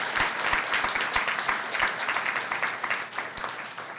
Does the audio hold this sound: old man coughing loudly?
no